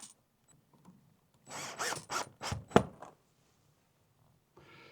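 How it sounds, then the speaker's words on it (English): A power driver screws down silicone clips holding the cable of outdoor solar LED strip lights, giving several short whirring bursts close by with quiet pauses between them. "and start screwing down"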